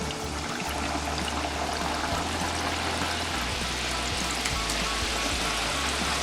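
Cashew namak paare frying in hot oil in a kadhai, a dense, steady crackling sizzle like heavy rain that holds at an even level throughout, close up, with no talking.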